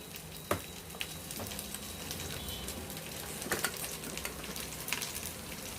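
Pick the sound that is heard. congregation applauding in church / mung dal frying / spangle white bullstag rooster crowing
mung dal frying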